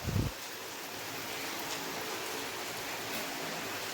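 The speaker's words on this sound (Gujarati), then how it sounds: "વરસાદ પણ जोरदार ચાલુ છે" Heavy rain pours steadily in a village setting, a dense, even broadband hiss with no letup, preceded by a brief low thump at the very start.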